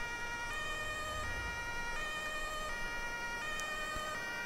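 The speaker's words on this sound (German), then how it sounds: "die fahren mit Blaulicht und Sirene an mir vorbei" In GTA V with the LSPDFR police mod, an emergency vehicle's siren wails in repeating alternating tones as it passes, faint and steady over a low background hum.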